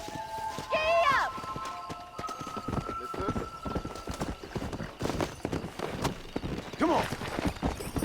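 A horse gallops steadily in Red Dead Redemption, hooves drumming close and loud in a fast rhythm, with a whinny near the start and another later, while a man calls out briefly over it.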